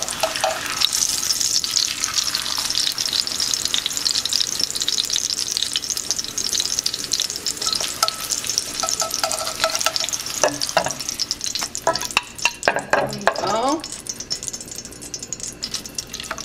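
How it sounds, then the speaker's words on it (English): Tortillas fry quickly in hot oil for Mexican enchiladas suizas, giving a dense, steady sizzle up close. Stirring and clattering noises come through near the end. "it's just a quick little fry"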